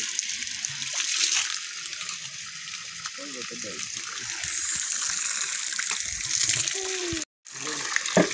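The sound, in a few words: water running from an outdoor tap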